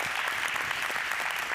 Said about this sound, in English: Can we just applaud our amazing staff that we have at this church?